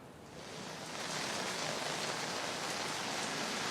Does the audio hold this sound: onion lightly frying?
no